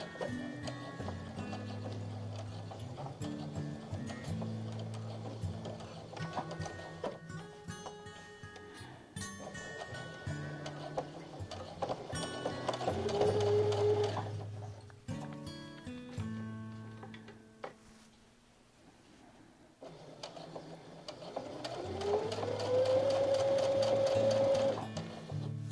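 A home sewing machine stitches fabric in steady mechanical runs, slowing carefully at an edge with a brief pause before reversing into a short backstitch, then speeding back up; close, loud and continuous with no talking.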